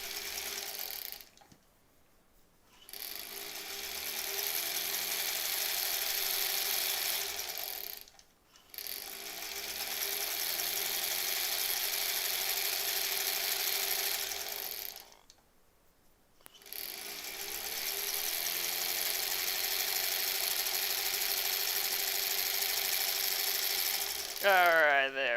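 A sewing machine stitches strips for a granny squares quilt block in three long steady runs of fast mechanical whirring, separated by short pauses.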